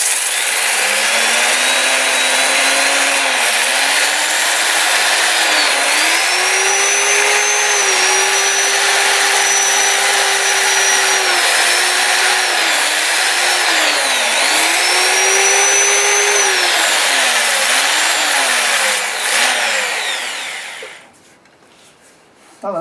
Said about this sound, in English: I'm going to show you a little bit of sanding